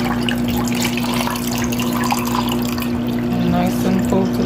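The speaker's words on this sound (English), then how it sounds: "I'm just going to be pouring into some glasses of ice." Carrot punch poured from a measuring cup into glasses of ice, a steady liquid splash running close and continuous under a constant hum throughout.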